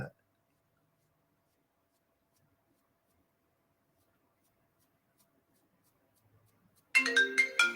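A phone ringtone from an unknown caller bursts in near the end after several seconds of near silence, a bright chirpy melodic ring, close and fairly loud.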